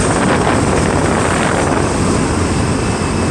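A 2023 Ducati Diavel V4 cruising at about 90 mph on the highway in sixth gear, heard as a loud, continuous rush of wind buffeting over a steady engine drone.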